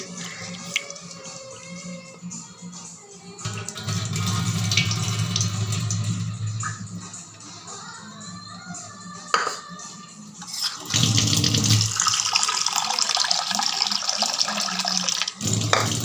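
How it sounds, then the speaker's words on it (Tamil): Soaked lentils are rinsed as water splashes and swishes in a container, with bursts of running tap water and sloshing; no talking. "ஜஸ்ட்டு ஒரு தடவை வாஷ் பண்ணிவிட்டு"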